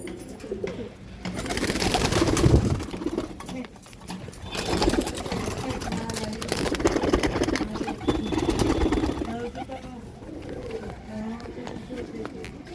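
Pigeons shuffle and flutter in a loft while a male bird is handled, with soft wing and movement sounds beneath people talking throughout.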